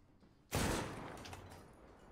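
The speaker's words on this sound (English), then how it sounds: "There was a gunshot." A single gunshot in the video game Detroit: Become Human cracks loud and near, then trails into a long, fading echo.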